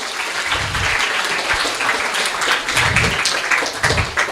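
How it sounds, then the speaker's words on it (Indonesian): Loud, dense applause rises from an audience at a Banyuwangi community gathering, a continuous wash of many hands clapping with little else heard. "Sekali lagi tepuk tangan yang meriah untuk kita semuanya."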